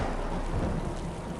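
Rain pours down with rumbling thunder in the puzzle-platform video game Typoman, a dense, steady wash of downpour and low roll filling the short stretch with no talk.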